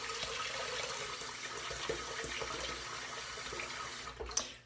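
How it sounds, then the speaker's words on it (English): Cold water runs from a tap into a bathroom sink, a steady close hiss and splash lasting throughout, with a brief clunk and louder spatter near the end. "We got to fill the sink back up. Cold water."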